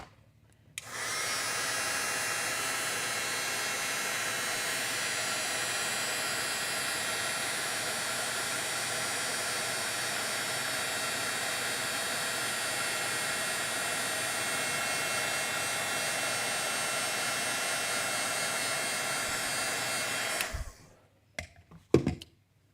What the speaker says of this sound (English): grab my heat gun again